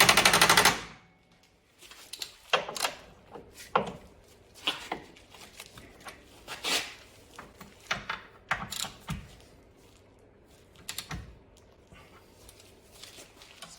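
A wrench tightens the rear shock absorber nuts on a 2010-2022 Lexus RX350, giving close, irregular metallic clicks and ratcheting bursts after a brief loud opening noise, with no talking.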